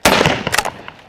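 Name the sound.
shotgun shot at a sporting clay target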